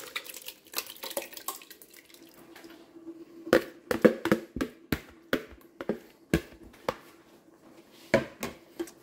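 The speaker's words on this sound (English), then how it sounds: "we're going to add the crushed tomatoes" Crushed tomatoes go into a pan of browned onions and garlic for marinara sauce, making a run of sharp wet plops and splatters close up, loud and irregular against a faint sizzling background.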